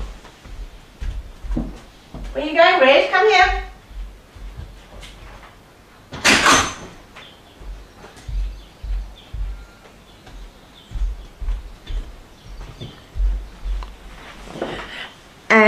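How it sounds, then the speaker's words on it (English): A door opening indoors at a rural home, a sharp broadband clack standing out once amid quiet room tone, with speech before and after it. "I just got to open the door"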